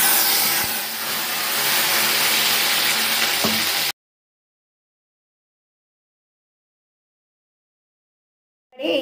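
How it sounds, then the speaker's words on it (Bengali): Cut potatoes dropped into hot white oil in a kadai give a loud, steady hiss and sizzle for about four seconds, then cut off abruptly into silence before a short burst of sound returns at the end. "এবার আমি কড়াইয়ে ছেড়ে দেব কেটে রাখা আলুগুলো"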